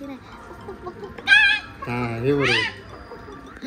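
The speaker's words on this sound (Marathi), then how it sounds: "कोंबडी बघ कोंबडी." A chicken in a Konkan village gives two loud, rising clucks close by, separated by a short pause, while people chat nearby.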